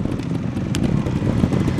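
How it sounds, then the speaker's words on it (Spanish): Trial motorcycle engine idling and burbling close by at a trials event, a steady low rumble with a brief sharp clatter partway through. "Y aquí tenemos Carmelo con nueva moto."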